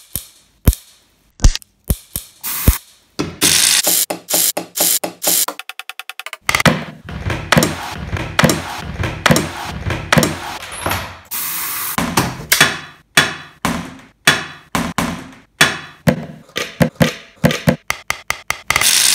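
A beat made only from bathroom items such as a toothbrush and toothpaste, built from sharp, close taps, clicks and hissing bursts. The hits fall in a steady rhythmic pattern that grows denser and busier, with no talking.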